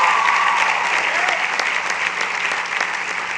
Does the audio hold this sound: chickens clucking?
no